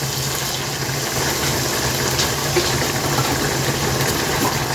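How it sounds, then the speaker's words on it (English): Water poured from a filled container into a pan of chicken tikka masala, a steady broadband pour running throughout at close range with no talk. "You fill it up with water."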